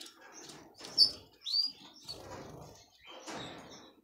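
A goldfinch in a cage gives several short, high chirps and tweets in bursts, with soft rustling and flutters from hopping about, close and fairly quiet with no talk.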